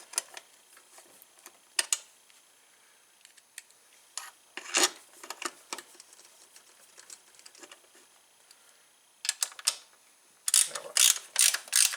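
Bolts on the variator of a 2012 Tao Tao scooter being tightened by hand, giving sparse, irregular metallic clicks and ratcheting bursts close by, with a faster cluster of clicks near the end and quiet gaps between.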